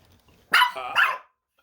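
A dog gives two quick, loud barks close by, each about a fifth of a second long, then falls silent.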